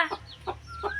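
A chicken clucks three times in short, evenly spaced bursts, close by, over faint low background noise.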